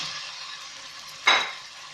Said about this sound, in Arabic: واش ندير شويه تاع الزيت تسخن، وندير صدر تاع الدجاج مقطع رقيق